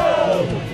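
Football fans at a Sub-20 cup final celebrate with flares, and a loud crowd yells and whoops together in a sustained, close roar of cheering voices.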